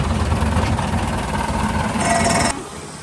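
A boat engine idles off Phuket with a steady low rumble and vibration, fairly loud, then drops noticeably quieter near the end.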